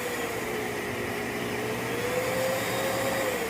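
A Festool CT15 dust extractor runs after being switched on, a loud steady vacuum roar with a whining motor tone that rises slightly in pitch, continuous and close with no voices.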